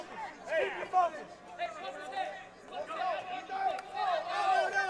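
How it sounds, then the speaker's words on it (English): Crowd at a submission grappling event, Fight For It VIII, fills the space with a steady murmur of overlapping chatter and voices that rises and falls but never stops. "Crowd not digging the ring so far."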